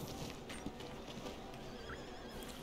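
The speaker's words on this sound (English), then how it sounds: "Okay, let's hitch this horse." A horse in Red Dead Redemption 2 gives a faint whinny and soft snort amid low background noise, brief and quiet against the game ambience.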